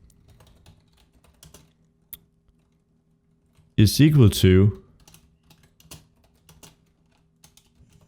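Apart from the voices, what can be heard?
typing code on a computer keyboard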